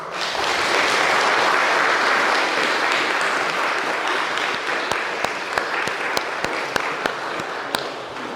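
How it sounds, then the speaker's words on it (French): Audience applause at the inauguration of the Protestant temple in Niederstinzel, honouring the artisans: a dense, steady wash of clapping that thins slightly, with a few sharp, distinct claps standing out toward the end. "le travail bien fait mérite quelques applaudissements"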